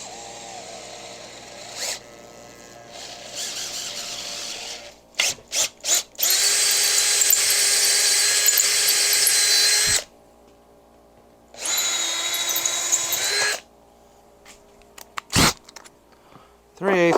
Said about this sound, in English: This is the 3/8 drill bit that I need for this.